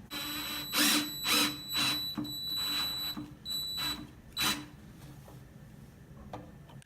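Power drill driving 2.5-inch exterior deck screws through a picnic table cross brace into the nailer, in several loud, high-pitched whirring bursts with short pauses between them, no talking.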